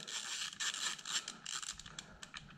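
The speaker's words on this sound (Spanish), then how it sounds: "con una llave de tor de 25, soltamos el paramanos" A Torx 25 wrench working on a handguard screw of a 2019 BMW S1000XR motorcycle at home, giving close, steady ratcheting clicks and scraping metal mechanism sounds with no talk.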